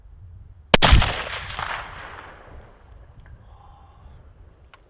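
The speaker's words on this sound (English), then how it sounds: "Just as I pulled the trigger, she moved." A single loud rifle shot fired while hunting after lockdown, a sharp close crack followed by a long rolling echo that fades over several seconds into quiet outdoor ambience.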